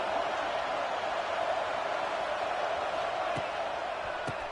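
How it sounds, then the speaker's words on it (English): A big football stadium crowd at an Alabama versus Georgia game keeps up a dense, steady roar, loud and diffuse, with a couple of faint sharp thumps near the end. "Listen to the crowd energy here in the early going."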